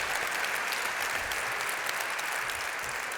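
Audience applause fills a public talk event on Sydney's future prosperity, a dense, steady roar of many hands clapping at close range throughout, with no voices over it.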